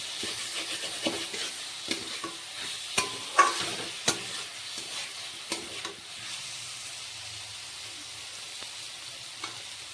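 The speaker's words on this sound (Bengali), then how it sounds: "মশলাটা প্রায় ভাজা ভাজা হয়ে গেছে" Spices fry in a pan for a rui fish curry with cauliflower and potato, a soft steady sizzle broken by repeated sharp scrapes and knocks of stirring, close by with no talking.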